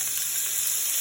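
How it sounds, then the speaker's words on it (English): Pork sizzling in avocado oil in a cast iron pan, a steady bright hissing crackle that holds level for a brief moment. "Good sizzle right there."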